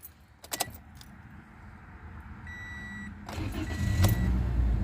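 A 2017 Toyota Corolla LE with about 51,000 miles: keys jangle, a few dashboard chimes sound, then the engine cranks and fires, settling into a close, steady idle.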